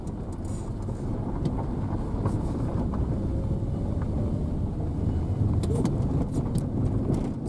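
A car with 267,000 km on it drives steadily, heard as a continuous low road and engine rumble from inside with some wind noise, fairly loud and unbroken throughout.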